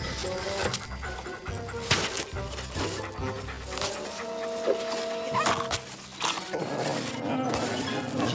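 Animated cartoon dog panting and yipping in short bursts among whimpers, up close, with music and voices around it.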